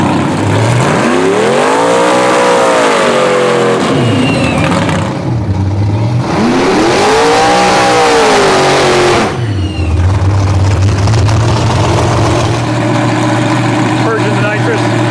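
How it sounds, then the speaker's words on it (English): Nitrous-fed Chevrolet Nova drag car at a drag strip, its engine loud and close, swelling through two long revving sweeps with a lower idle between them, while people talk over it. "the Nova's trying to make its second pass"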